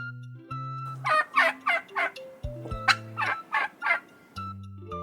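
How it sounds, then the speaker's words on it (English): A turkey gobbles repeatedly in a rapid series of loud, warbling bursts, heard up close and alone, with steady musical tones running beneath and between the calls. "A turkey says, gobble, gobble."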